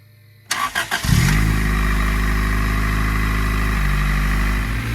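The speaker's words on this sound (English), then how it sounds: "I say she starts straight up." An engine cranks a few quick times, catches, and settles into a loud steady idle that dips slightly near the end.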